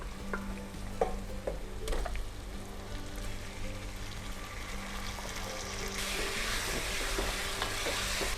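Mutton searing in a pan with onion, ginger and garlic, a steady faint sizzle with scraping stir strokes near the start, the frying growing brighter and hissier toward the end.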